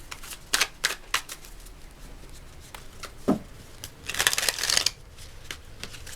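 Tarot cards being shuffled and drawn at a reading table, with quick riffling bursts and soft flicks in an irregular rhythm, close and fairly quiet, ending in a longer shuffle, with no talking.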